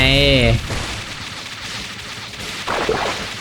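A burst of game gunfire from Metal Slug Awakening opens loud with a rapid tonal volley, then fades to quieter background effects before a second short burst near the end.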